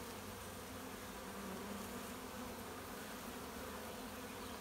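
Calm honeybees that have settled inside a car door, humming in a dense, constant drone at low volume with no break.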